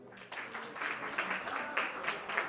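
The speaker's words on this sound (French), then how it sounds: "je vais demander à ce qu'on applaudisse pour Pamela" A small group applauds at a surprise birthday party, uneven clapping with irregular bursts, fairly faint and a little distant.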